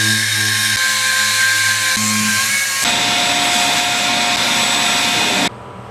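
A dual-action sander with 80-grit paper working a carbon fiber roof panel for an E46 BMW, a loud steady whir that shifts pitch midway and cuts off abruptly near the end, heard close with no talking.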